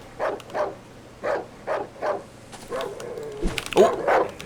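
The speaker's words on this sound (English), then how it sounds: "There was another dog. Sounds like it's off to the left." A dog barks repeatedly in the survival horror game Darkwood: a steady series of sharp barks at a medium distance, then a brief pause and a louder, closer burst of barking and yelps near the end.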